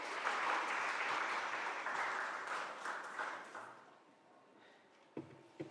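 Guests clap in a state senate chamber after a resolution vote, a broad wash of applause that fades over a few seconds, followed by a couple of sharp knocks.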